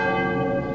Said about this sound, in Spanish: las campanas de la iglesia volvieron a sonar.